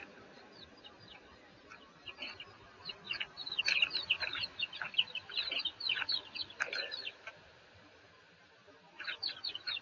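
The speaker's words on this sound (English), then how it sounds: "Susan, normally we use chicken for egg." Chickens in a Kerala village cluck in irregular bursts, a cluster of several birds calling close together over a quiet outdoor background, pausing briefly before another short flurry of clucks.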